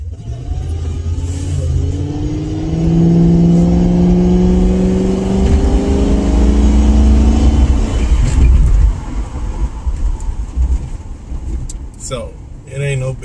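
A car drives along a road through a city district, its engine rumbling steadily and close by. Low engine drone and road noise run throughout, with a person talking over it for much of the time.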